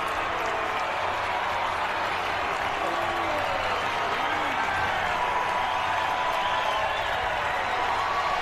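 A baseball stadium crowd in Sacramento roars after an Aaron Judge home run for the Yankees against the Athletics, with a broad steady wall of cheering and clapping and faint voices within it.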